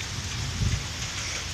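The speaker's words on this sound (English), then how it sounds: "So it's just pouring down rain now." Heavy rain pouring down during a thunderstorm, a steady, dense hiss of drops with a faint low rumble swelling briefly midway, heard from under a small overhang.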